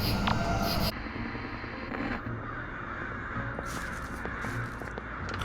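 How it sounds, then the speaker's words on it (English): Crows caw repeatedly over a dense, steady ambient bed in the horror video game Sucker for Love, with calls scattered across the stretch at moderate distance. "Crows."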